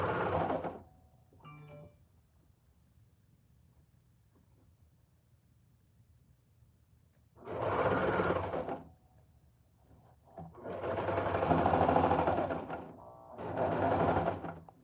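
Sewing machine stitching a bell sleeve, heard in three separate bursts of rapid mechanical whirring split by quiet pauses, with a few faint handling clicks early on.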